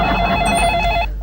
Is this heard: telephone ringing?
yes